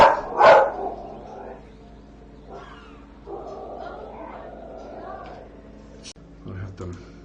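A pet dog barks loudly twice at the start, close by. A game plays on in the background after the barks, with its own voices and sounds.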